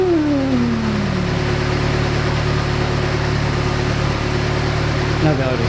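A Saab 90 engine idles too high after a carburettor rebuild, giving a steady, close, continuous hum. A brief falling tone opens the sound.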